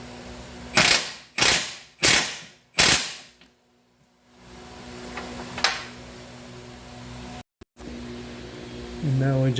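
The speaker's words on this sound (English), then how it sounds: "So what's left is to tighten up the control arm bolt on this end." A ratchet tightens the lower control arm bolt on a 2015 Jeep Patriot 2.4 in four quick, loud clicking bursts, followed by quieter clinks of tools and a low mechanical hum.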